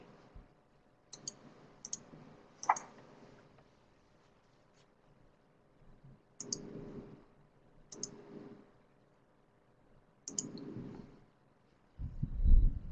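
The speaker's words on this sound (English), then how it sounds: "So for example, if I click this one" Sharp computer mouse clicks during a software demonstration at a seminar, a few brief separate clicks spread across a quiet stretch with faint room noise between them.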